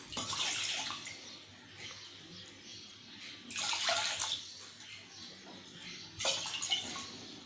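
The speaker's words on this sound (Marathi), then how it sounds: "ह्याच्यामध्ये आपण 3 ग्लास पाणी टाकूया।" Water is poured from a glass into a pressure cooker in three separate splashing pours, each a short gurgling rush, fairly quiet and close with pauses between.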